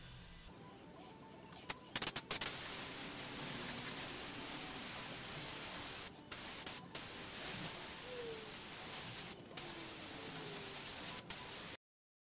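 A spray gun lays a thin third coat of primer onto a Chevrolet Silverado body panel, giving a steady close hiss that runs for about eleven seconds. It breaks off briefly in a few short gaps, with no talking.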